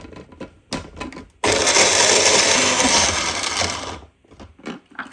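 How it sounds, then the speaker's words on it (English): An electric food chopper whirs loudly for about three seconds as it chops a handful of Brussels sprouts, preceded and followed by clunks and rattles of the sprouts and lid. "So I'm just putting 3 or 4 sprouts in at a time and seeing if that'll chop up."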